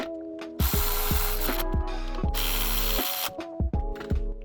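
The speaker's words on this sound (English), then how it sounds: "now just throw the bolts back on there, and you're good to go" A ratchet wrench spins bolts tight on the front snub mount of an Audi A4 2.0T, with rapid loud clicking in bursts and short pauses between strokes, close up and without speech.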